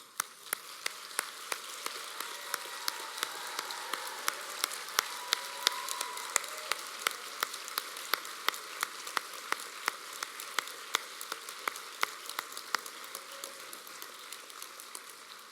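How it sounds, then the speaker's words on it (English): Graduates at a Perth College UHI graduation ceremony applauding their lecturers, a steady dense patter of many hands clapping in a large hall, sustained and fairly distant with occasional sharper claps. "give a huge round of applause to the lecturers who deserve our appreciation and gratitude"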